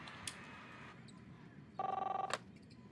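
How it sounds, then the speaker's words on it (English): A telephone rings in the Captain Spirit video game, with a steady electronic ring tone starting partway through and giving a dozen rapid pulses before cutting off, over quiet background ambience. "Chris, answer the phone, please."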